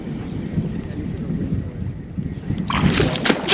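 Gusty wind buffets the microphone outdoors while fishing with live shrimp at low tide, a low rumbling roar that swells and fades, ending in brighter bursts of noise.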